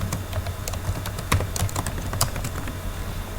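Computer keyboard typing HTML code during a beginner tutorial, a steady run of light key clicks with a few sharper strokes, close and fairly quiet, with no talk.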